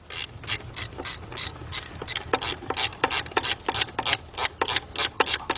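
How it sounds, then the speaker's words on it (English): A 3/8-inch ratchet with a shallow, short 10mm socket turns bolts on a Chrysler PT Cruiser-family engine during timing belt and radiator work, giving a fast, steady series of sharp pawl clicks, close and loud with no talking. "you're going to use your shallow, short 10mm socket with your 3 ratchet, and you're going to go like this"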